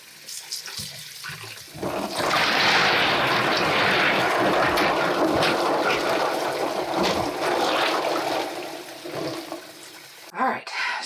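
Lye dissolving in an ice water bath for soapmaking gives a steady, close hiss and rush of fizzing liquid for about eight seconds, then tapers off. Brief clunks come at the start and the end.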